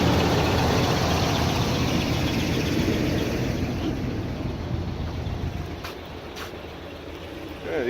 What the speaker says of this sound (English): Go ahead and give it a rev.